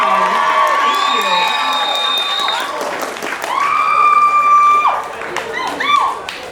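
A youth music showcase audience at One Art Community Center claps, whoops and cheers for a graduate, loud and close, with shrill sustained shouts over the clapping throughout.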